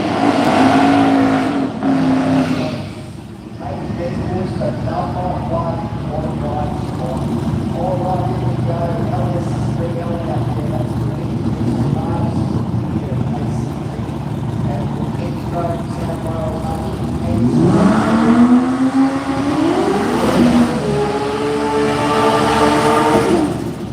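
A four-wheel-drive street R32 on radials races an LS turbo VL at a night drag meeting, engines droning loud and steady, then a rising rev sweep near the end, with commentary running over it.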